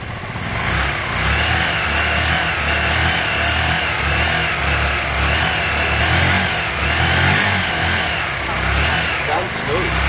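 Honda Varadero 125 motorcycle engine running on freshly fitted carburettors and airbox, revving steadily and loudly for about ten seconds with rising and falling swells.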